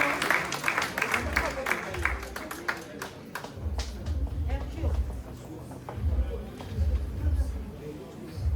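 A wedding congregation at a church blessing claps together in a steady rhythm, with sharp overlapping hand claps over low thumping beats and murmuring voices throughout.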